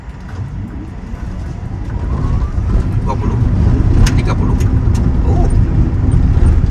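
A Honri Boma electric car with 40 horsepower pulls away from a standstill in an empty area, its road and motor noise swelling steadily louder as it gains speed while people talk inside.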